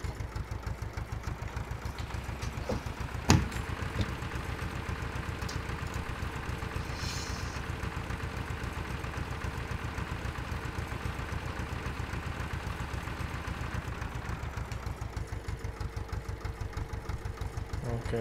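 A tractor engine idles in Farming Simulator 17 with a steady, close low chugging throughout, broken briefly by one sharp click.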